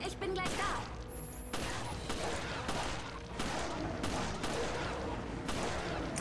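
Pistol gunfire from the video game Resident Evil Revelations: repeated sharp shots at roughly even intervals over a dense, continuous game soundscape.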